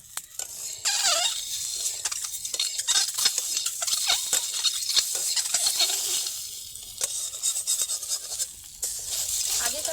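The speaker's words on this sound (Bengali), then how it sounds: "শুকনো খোলায় ডিমগুলোকে আমি একটু নেড়ে ভেজে নেব" Boiled eggs stirred and dry-roasted in a pan with no oil give a continuous close scraping and rattling over a soft sizzle, steady and fairly loud throughout.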